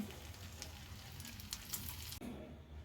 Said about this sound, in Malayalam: ഇനി ബാക്കിയുള്ളത് നമ്മൾ ഒന്ന് ഫ്രൈ ചെയ്തെടുക്കാം